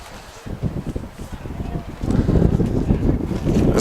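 Strong wind buffets an outdoor college lacrosse field, a rough, gusty rumble that swells louder partway through and stays heavy, with no clear speech over it.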